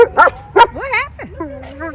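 Dog on a family farm barking and yipping in a few sharp bursts, then whimpering and whining with rising, wavering tones, close and loud.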